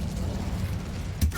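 The Incendio fire spell cast in Hogwarts Legacy, a low rumbling whoosh of flame that swells into a brief muffled burst near the end.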